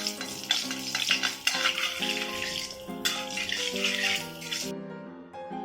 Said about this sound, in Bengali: এই গোটা মশলাগুলোকে ভালো করে ভেজে নেব